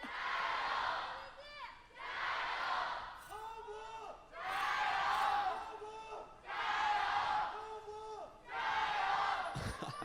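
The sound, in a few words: esports arena crowd shouting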